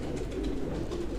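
Pigeons coo in a large breeding loft, a soft, low, rolling warble repeating steadily, quiet and close, with no talking over it.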